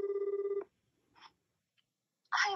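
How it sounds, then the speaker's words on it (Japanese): A phone call rings through on an Apple Watch Ultra: a short burst of pulsing electronic ringtone that stops after about half a second, followed by quiet and a few faint, brief sounds. "ちょっとねクオレちゃんに電話してみましょう"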